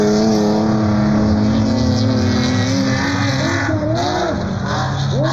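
A race car in a Clase 7 Libre short course race at San José del Cabo roars past at high revs, its loud engine note sweeping up and down as it shifts and slows through the lap, with crowd noise underneath.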